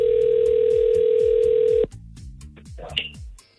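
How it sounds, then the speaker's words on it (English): A steady telephone dial tone plays loud and close on a country radio morning show as hosts start a call to a listener, then cuts out into quieter clicks and background sound. "we have to make a phone call"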